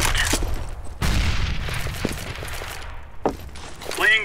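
Grenade explosion in Counter-Strike: Global Offensive on the Mirage map, a loud booming blast followed by decaying rumble, with scattered footsteps and gunfire nearby.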